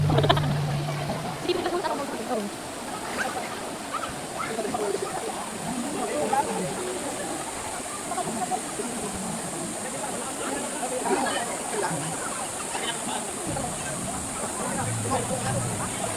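Antong Falls roars as a steady, strong rush of falling water, close and loud throughout, while several people talk excitedly over it.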